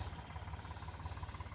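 A tractor engine runs as it ploughs a cotton field, a low, faint, steady rumble with a regular throbbing pulse.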